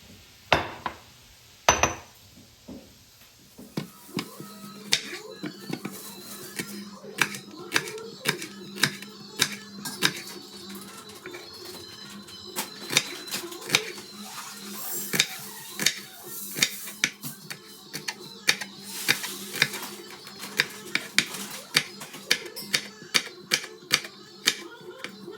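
A kitchen knife chops onions on a cutting board at home while ghee rice is being made, a long run of quick, sharp, closely spaced taps that are fairly loud and near, with a few louder knocks early on.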